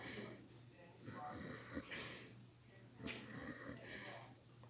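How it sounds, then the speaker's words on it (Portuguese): A pig sleeping in a garage snores in wheezy, snorting breaths, two or three rhythmic inhale-exhale cycles close up and fairly quiet, with a faint hum underneath. "Já viu o porco roncar?"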